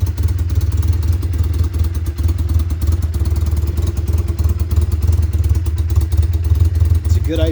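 A 1985 Honda Rebel 250 idles low just after a cold start, a steady close rumbling putter with a faint mechanical clatter running unbroken throughout.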